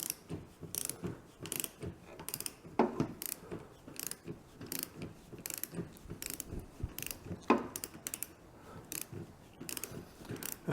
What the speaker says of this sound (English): So I think I'm gonna use a ratchet.